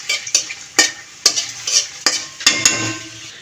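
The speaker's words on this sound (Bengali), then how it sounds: "শুকনো মরিচগুলো দেওয়ার পর আমি একটু নেড়ে ছেড়ে দেবো, নেড়ে ছেড়ে দিয়ে একটু বেজে নেব" Five or six whole dried red chilies frying in hot oil while being stirred, close sharp scrapes of a spatula against the pan repeating every half second over a soft sizzle, no talking.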